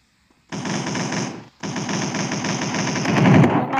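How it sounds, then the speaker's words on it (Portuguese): Machine-gun fire in a shooter video game rips out in two loud sustained bursts of rapid shots, the first stopping briefly before a longer second burst that swells toward the end. "eu dei mais de 30 tiros na cabeça"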